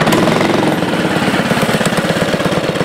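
A racing vehicle engine revs loudly and steadily with a rapid, rough pulsing throb, driven by a 7-year-old boy at a racing competition.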